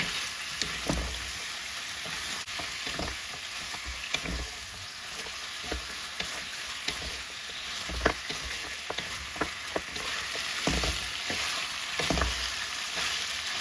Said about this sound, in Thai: เราใส่เครื่องปรุงรสทั้งหมดลงไปนะคะ เราก็ผัดให้เขาเข้ากันเลยค่ะ